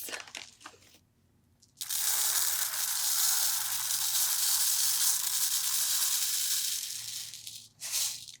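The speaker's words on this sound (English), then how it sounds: "let's fill it up with rice" Rice poured through a funnel into a fabric bag for a cold compress, heard as a steady, close hiss of grains that runs for several seconds after a short pause and then tapers off.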